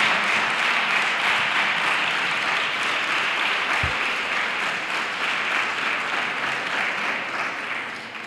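A crowd applauds at a Three Kings coronation ceremony in El Trobal, dense sustained clapping from many hands that carries on steadily and tapers slightly toward the end.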